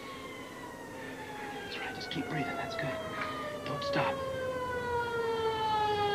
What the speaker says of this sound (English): You hear that? That's a siren.